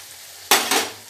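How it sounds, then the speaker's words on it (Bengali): Luchi, a puffed Bengali flatbread, sliding into hot oil for a vegetarian ritual meal, a sudden loud burst of sizzling that swells again a moment later, then settles into a steady crackle. "লুচি ভাজতে গিয়ে যদি ফোলে তাহলে বেশ মজাই লাগে"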